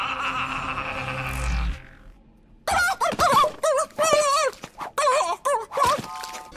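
Animated chickens from the cartoon Space Chickens in Space cluck in agitated, warbling bursts. The clucks come in quick irregular runs after a short unrelated tone and a brief lull.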